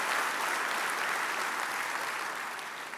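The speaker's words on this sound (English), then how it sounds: "We can clap for that." An audience at the 2020 Eggs and Issues event with Governor Kemp breaks into applause, a full, even roar of many hands clapping that stays steady, then eases slightly at the end.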